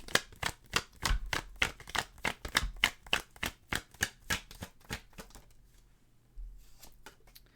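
Tarot cards shuffled in a rapid, even run of crisp riffling slaps, close and fairly loud, stopping partway through before a soft thump and quiet handling.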